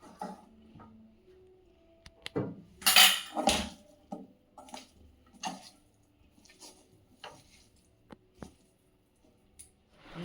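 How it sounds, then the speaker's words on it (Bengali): Chopped ingredients, including egg, are tossed and mixed in a bowl with a utensil, giving scattered clinks and scraping knocks of metal against dish at an uneven pace, with quiet gaps between. "এবার এগুলো যেগুলো কেটে রেখেছিলে সব মিশিয়ে দিলে, তাই তো?"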